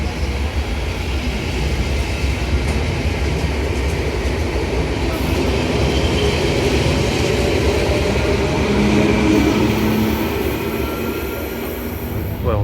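A Soviet-era train rumbles along from inside the passenger wagon, a steady loud roar of wheels and car noise with faint squeals, continuous throughout and with no talking.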